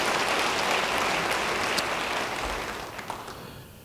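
A church congregation applauds during an Indonesian sermon, a dense steady wash of many hands clapping that holds loud and then gradually thins out toward the end.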